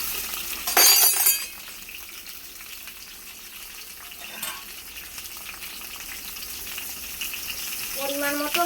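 Cut olives and hog plums tipped into a hot pan give a brief loud splash of sizzling, followed by a lower, steady frying hiss and a few light clinks near the end.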